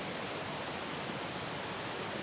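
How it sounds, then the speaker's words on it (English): Steady rushing water roars continuously, a dense broadband hiss with no breaks, like a waterfall at Enders Falls heard from nearby. "can already hear the waterfall."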